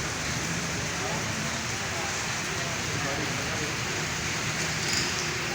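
Rain falls on a road in a steady, dense hiss, an even wash of sound that stays constant with no pauses.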